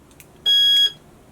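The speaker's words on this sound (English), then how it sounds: "The second button, one bleep, activates the alarm." A Swift Challenger 590 caravan alarm (2019 model) gives one short, loud, high-pitched bleep when armed by key fob, close by in a quiet setting.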